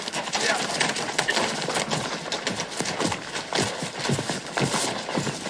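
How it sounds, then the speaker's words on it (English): Horse hooves clip-clop steadily through a Western video game scene, with a speaking voice over the rhythmic hoofbeats and busy background sound. "He's my horse"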